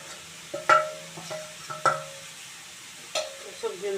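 Broccoli tossed with vegetable masala in a pan, a quiet sizzle punctuated by five or six clinking, scraping spatula strokes against the metal, each ringing briefly, heard up close without talk.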